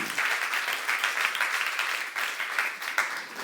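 Steady, dense applause from a church youth congregation during a sermon, many hands clapping together at an even, sustained level throughout with no voices over it.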